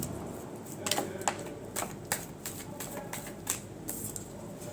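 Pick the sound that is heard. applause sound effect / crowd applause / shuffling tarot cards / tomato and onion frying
shuffling tarot cards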